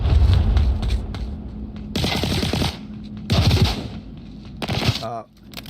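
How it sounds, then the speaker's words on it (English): Bursts of rapid video game gunfire ring out in several loud volleys, separated by brief gaps and layered over a low rumbling background. "Gunfire comes out."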